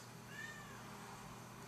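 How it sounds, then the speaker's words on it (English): A single faint, short meow rises briefly over a steady background hiss, soft and somewhat distant. "And you can hear the cat in the background."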